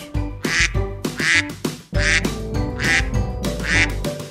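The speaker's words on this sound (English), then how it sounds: "Duck." A cartoonish duck quacks in a children's animal-alphabet song, a series of loud, close, bright quacks in quick bursts over a steady musical backing, with no speech.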